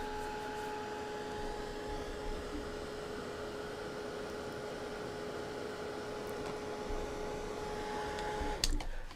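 A steady whirring blower, such as a hair dryer, dries a watercolor painting. The hum is constant and fairly quiet, then cuts off with a click near the end.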